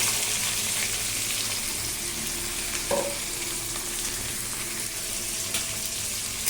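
Onion fries in hot oil with garlic in a pan, producing a loud, continuous sizzling hiss with an occasional clink of a utensil.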